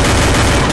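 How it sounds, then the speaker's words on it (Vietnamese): Gunfire from the Free Fire battle royale video game rattles out in a loud, dense burst, shots packed closely together, lasting under a second. "Cậu bắn tôi."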